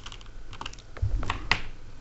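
Keys clatter on a computer keyboard during a Windows 95 installation, a quick run of light, close clicks followed by a few firmer keystrokes, with no talking.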